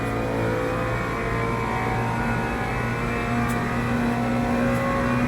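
GT3 race car engine at Monza in Le Mans Ultimate, on a wet track: a loud, steady, sustained engine drone with layered tonal hum and no shifts or passes, heard close and alone without voices.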